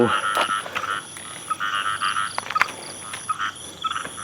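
Frogs croaking in a rapid, repeated pulsing chorus, fairly close and loud, with a high steady insect-like tone in the background.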